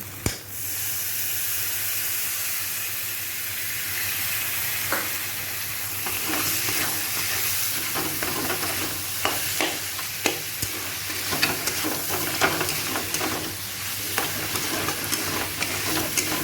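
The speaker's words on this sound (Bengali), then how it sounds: "ভালো করে আমি কষে নিই" Tomato masala for ghugni is stir-fried in a pan, a hissing sizzle that starts smooth and then fills with repeated close clinks and scrapes of a spatula stirring.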